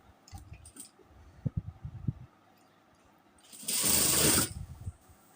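A sewing machine stitching a nighty runs in one loud burst of about a second, after some light clicks and handling of fabric and parts.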